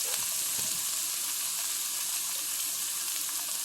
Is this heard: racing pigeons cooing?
no